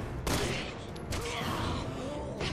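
Gunfire in the video game Resident Evil 6, a sharp burst of shots with a loud crack near the start and a few more reports and rattles trailing after, mixed with game noise.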